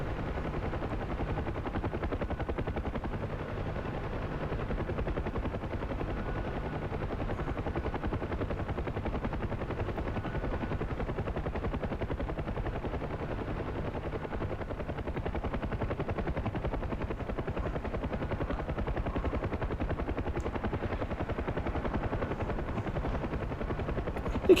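A UH-1 helicopter's rotor thrums in DCS World, a steady, continuous chop for the whole stretch, even and unbroken, with no voices.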